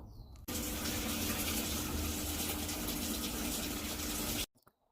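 Steady rushing of water pouring into a Samsung washing machine, loud and continuous for about four seconds, with a faint low hum underneath, then stopping abruptly.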